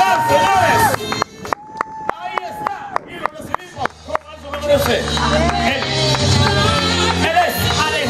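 Rodeo spectators clap for an arriving rider, scattered sharp claps between bursts of announcer talk, then a louder wave of crowd noise and music swelling near the end.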